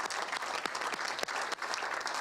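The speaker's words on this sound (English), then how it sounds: "That's worthy of applause." Applause from an audience at a Rockford Public Schools board meeting honoring graduating university seniors who are future teachers, a steady dense clapping that fills the whole moment with a few sharper claps standing out.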